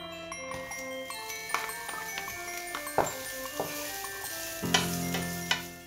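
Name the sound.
onions sweating in oil in a pan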